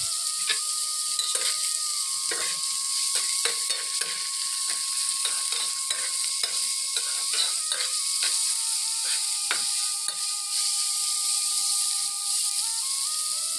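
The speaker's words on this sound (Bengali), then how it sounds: "এবার চিংড়িগুলো পেঁয়াজ রসুনের সাথে দিয়ে দিচ্ছি। এবার নাড়াচাড়া করে নিব।" Shrimp fry with onion and garlic in a steady, close hiss of sizzling. A spoon stirs through the pan, making repeated scraping taps.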